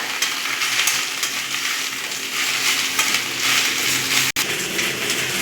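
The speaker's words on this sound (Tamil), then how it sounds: "போட்டு நல்லா வதக்கிக்குங்க அடுப்பை மீடியம் ஃப்ளேம்லேயே வச்சுக்கோங்க" Chutney ingredients sauté in a pan over a medium flame, giving a steady, loud, close sizzle that runs unbroken except for one very brief dropout near the end, with no talking.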